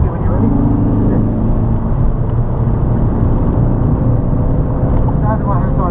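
A race car sweeps past on the Snetterton circuit, its loud engine drone filling the whole stretch as it goes by close at hand, with faint talk over it.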